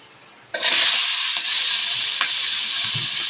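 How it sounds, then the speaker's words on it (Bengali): Chopped vegetables drop into hot oil already seasoned with panch phoron, setting off a sudden loud, steady sizzle that holds without letup, with no talking. "এই যে কেটে রাখা সবজিগুলো একে একে আমি দিয়ে দেব গরম তেলের ওপর"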